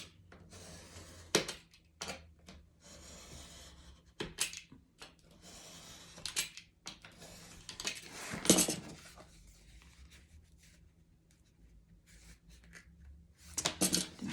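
Paper card being cut on a trimmer while making a gift box or mini-album, heard as a few sharp slicing and sliding strokes with quiet handling noises in between, close and fairly faint, with no talking.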